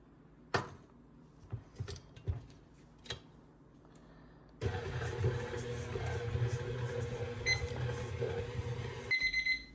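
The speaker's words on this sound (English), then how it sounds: "so my timer's going off" A kitchen timer going off while homemade bread dough is kneaded by machine, with scattered clicks at first, then a loud steady machine rumble and a brief tonal beep near the end.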